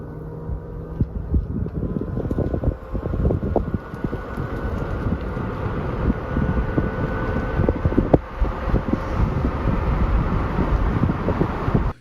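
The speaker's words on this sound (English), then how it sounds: "you heard it going and then you heard it kind of change as we started to pick up speed. You start to get some wind noise" A Ford Mustang Mach-E electric car accelerates as heard from outside, with a steady low hum building and heavy wind noise buffeting the microphone throughout.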